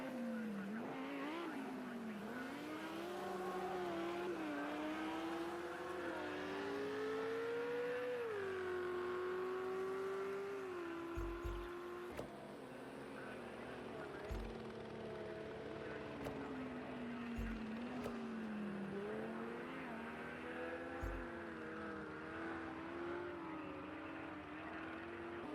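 Lamborghini and Ferrari GT3 race cars in Project Cars 2 at Imola race on, their engines whining steadily through gear changes with faint thumps, heard at a low level.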